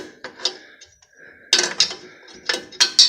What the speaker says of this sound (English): I got this ratcheting wrench here, and it's just will not fit up in there.